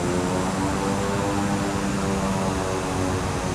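Twin turboprop engines of a Piaggio P180 Avanti II in Microsoft Flight Simulator run at an even, steady drone with layered tonal hum, loud and continuous throughout with no pauses.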